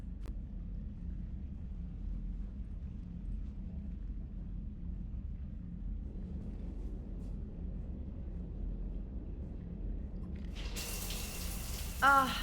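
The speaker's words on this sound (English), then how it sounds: "I figured you'd be more interested in a shower." Shower water runs in the video game Mass Effect 3 as a steady, low, rumbling hiss. It swells into a brighter, splashier rush near the end.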